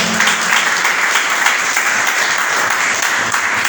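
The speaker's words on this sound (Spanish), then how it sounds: "¿Cuánto le dan un aplauso al Señor por eso?" A church congregation claps for the Lord during a sermon, a full, even wash of many hands clapping at a steady level with no voices over it.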